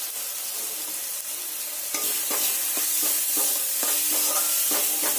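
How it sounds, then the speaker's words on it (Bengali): Spices being sautéed in hot oil in a pan while cooking an okra and yogurt dish, with a steady loud sizzle and repeated scraping stirs from about two seconds on. "ভালোভাবে মশলাগুলোকে কষিয়ে নিতে হবে"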